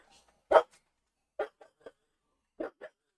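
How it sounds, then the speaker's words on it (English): A dog barks at a cat indoors, several short sharp barks in irregular bursts with quiet gaps between them, close and fairly loud. "He's barking at the cat."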